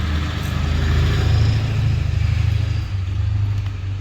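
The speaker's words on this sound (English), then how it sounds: "wait for this truck." A truck rumbles past with a steady low engine drone that swells and eases, moderately close, without talk.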